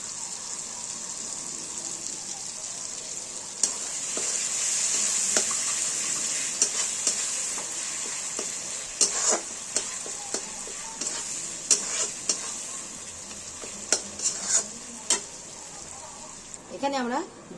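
Spices sizzling in ghee in a pan for egg biryani, a steady frying hiss with irregular clinks and scrapes of stirring, growing busier toward the end, with a voice talking at times.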